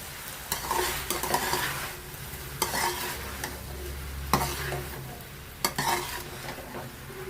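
Cooked ivy gourd being stirred in a frying pan, with soft sizzling frying throughout and several sharp scraping clacks of a spoon against the pan spaced a few seconds apart; no talking.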